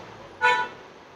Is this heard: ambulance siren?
no